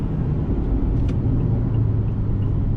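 A 2019 Mazda CX-9 Touring SUV under way, a steady low road rumble and engine drone heard from inside the cabin, loud and continuous with no talk.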